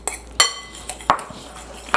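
Melted butter being stirred into crushed biscuit crumbs with utensils against a bowl, giving a few sharp clinks and scrapes at uneven intervals, close and fairly quiet, with no talking.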